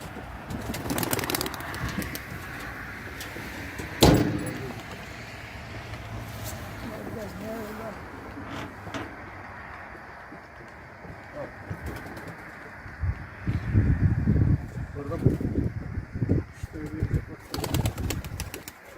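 A pigeon takes off from a loft and flies off, with brief wing flaps and soft coos amid outdoor noise, while people talk in Turkish throughout.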